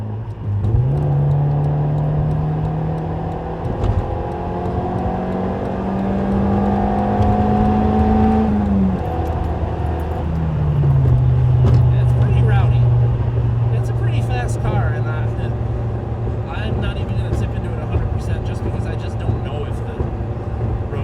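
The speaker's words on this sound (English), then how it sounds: "Noisy in here on the highway, probably because of the lack of muffler" Loud, steady cabin drone from a 1994 Nissan Pulsar GTI-R cruising on a highway with no muffler, its engine note shifting through gear changes and holding a constant roar throughout.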